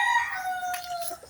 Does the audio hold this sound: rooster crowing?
yes